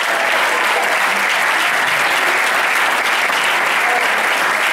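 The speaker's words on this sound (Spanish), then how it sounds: "Dele fuerte el aplauso al Señor." Loud, dense applause from a church congregation fills the whole stretch, steady and enveloping without a break.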